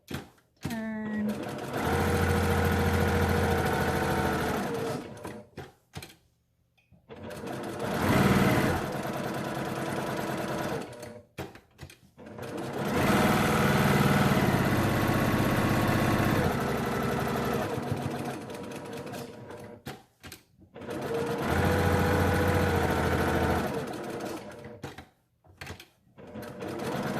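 Sewing machine stitching a fabric 3D face mask, a fast steady whirring hum in several long runs separated by short pauses.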